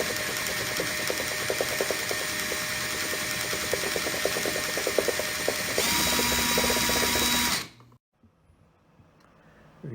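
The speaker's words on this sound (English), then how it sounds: "as the drill spins faster, we'll increase the induced EMF" An electric drill spins a small demonstration AC generator, giving a steady ratcheting, whirring mechanical rattle that runs continuously, then cuts off abruptly near the end, leaving near silence.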